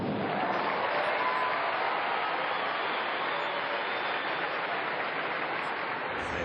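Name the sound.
tennis crowd supporters applauding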